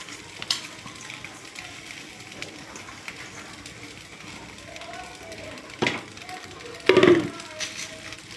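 Halved eggs (four cut into eight) stirred with masala in a frying pan, giving a few soft scraping clicks and a sharper stir near the end beneath quiet background talk.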